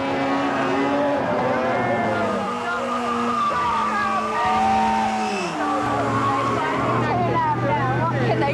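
A Toyota van doing a burnout on a city road in Auckland: engine revving up and down with wavering tyre squeal, heard close, with people talking over it.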